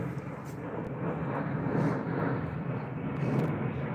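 A steady, fairly loud rumbling roar comes from an Airbus A320 airliner passing overhead, its level rising and falling gently over a few seconds, with no voices present.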